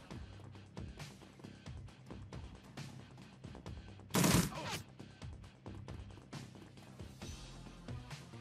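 Gunfire from the video game Shadowrun Returns, a loud burst of shots near the middle of the clip standing out over a busy background of game sound effects and music.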